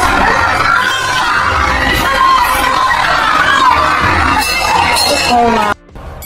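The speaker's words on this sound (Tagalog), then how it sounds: "Sigawan ng mga fans sa loob ng venue" Boxing fans in an arena shout, yell and cheer in a dense, loud, continuous crowd roar during a WBA title bout, cutting off abruptly near the end.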